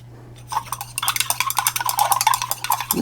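Facial toner made with sweet almond oil being stirred after a broad-spectrum preservative is added, giving rapid close clinks and scrapes of a utensil against a container that start after a half-second pause and keep going steadily, with a low steady hum underneath.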